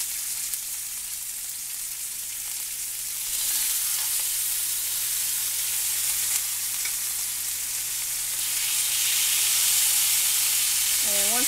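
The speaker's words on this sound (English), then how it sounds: "And once they're in there, let them sear" Salted mushroom steaks sear in a hot pan with a steady, close broadband sizzle that swells louder midway and holds, with no talking over it.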